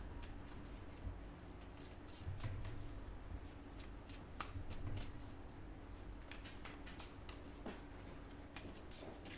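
Tarot cards being shuffled by hand during a weekly horoscope reading, a steady run of soft riffling and tapping clicks, close and continuous, with a couple of louder thumps partway through.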